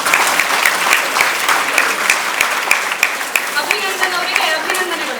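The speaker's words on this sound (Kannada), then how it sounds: "ಜೋರಾದ ಚಪ್ಪಾಳೆ" An audience at a student award ceremony breaks into sustained, loud applause, a dense wash of many hands clapping steadily for several seconds.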